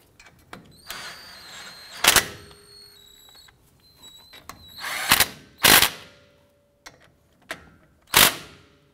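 A ratchet or power tool snugging down the front brake caliper bracket bolts on a 2011-2018 Ram 1500, in several short, loud bursts separated by pauses, with metallic clicks and tool handling between them.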